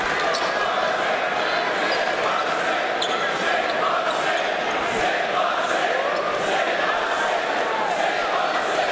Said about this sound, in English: Crowd starts chanting, "Sit, Buzz, sit."